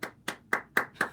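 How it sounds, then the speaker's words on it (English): Five crisp hand claps in an even, unhurried rhythm, quiet and close, from what sounds like a single person rather than a crowd. "Give yourself a round of applause."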